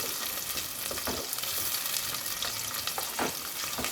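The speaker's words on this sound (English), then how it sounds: "Then like this, we let it fry for a while." Onions fry in hot oil for a fresh tilapia soup, a continuous close sizzle and crackle with a few soft stirring scrapes, no voices.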